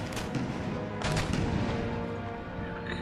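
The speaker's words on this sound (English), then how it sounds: "Shrapnel shot doing some real good damage there." Artillery firing shrapnel shot during a battle in the video game Empire: Total War, a dense continuous roar of cannon and gunfire with overlapping booms and crackling volleys, loud and sustained throughout.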